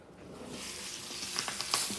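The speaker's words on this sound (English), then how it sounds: "Be careful of the sizzle." Brussels sprouts and onions hit a hot pan and sizzle, the frying swelling from quiet to a crackling hiss with sharp pops near the end.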